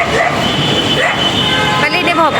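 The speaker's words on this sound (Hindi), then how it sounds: "पहले इन्हें भौंकने दो।" Dogs barking and yipping on a street in India, several short overlapping barks under loud traffic and ambient noise, fairly close.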